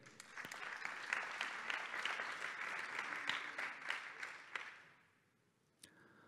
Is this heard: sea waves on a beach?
no